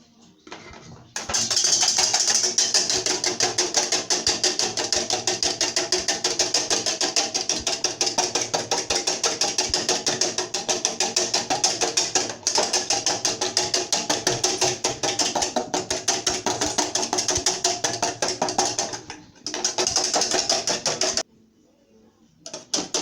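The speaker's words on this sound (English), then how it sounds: "at this point I'll just start whisking." Rapid metal-on-bowl whisking of egg yolks for a light carrot cake, a fast, steady ticking rattle that runs loud and close for about twenty seconds, pausing briefly before stopping.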